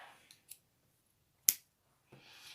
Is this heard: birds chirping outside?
no